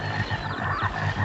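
Frogs croak steadily through a 1972 animal-horror film scene, with a dense, rhythmic chorus of low croaks pulsing in the background and no talking.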